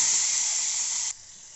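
Mustard seeds, curry leaves and asafoetida hitting hot oil for a tempering, giving a loud, steady, close hiss that drops abruptly to a quieter sizzle partway through.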